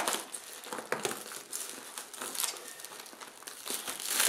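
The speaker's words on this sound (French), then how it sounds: "aujourd'hui, déballage d'un nouveau colis" Plastic packaging from an airsoft parcel sent by Taiwan Gun crinkles and crackles steadily as it is unwrapped up close, with irregular rustling bursts and no voices.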